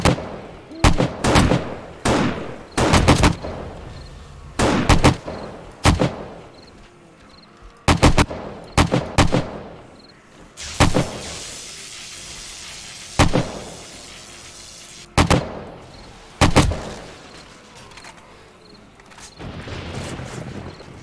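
Game gunfire from hard-kicking guns in the zombie survival game 7 Days to Die, modded: loud bursts of rapid shots in short clusters, separated by brief pauses and echoing tails, with no talk.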